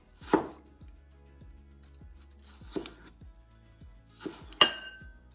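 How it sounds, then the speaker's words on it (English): A kitchen knife slicing vegetables into matchsticks for coleslaw on a cutting board, with a run of crisp, evenly spaced close taps and a few louder clinking strokes, no talking. "we're simply going to slice that in two matchsticks"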